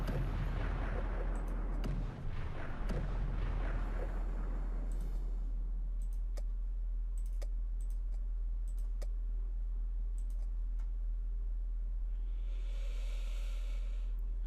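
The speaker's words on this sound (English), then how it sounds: "Shelling. Shelling." Artillery shelling in the Cauldrons of War: Stalingrad strategy game, a heavy rumbling barrage early on followed by scattered sharp distant clicks and thuds over a steady low drone.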